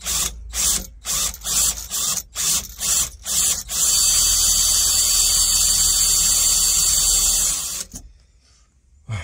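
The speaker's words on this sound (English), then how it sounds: "That's a bit of a naff drill." An electric drill whirs in short stop-start bursts, then runs continuously for several seconds before cutting off, close by.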